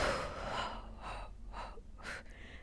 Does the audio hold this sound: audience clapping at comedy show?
no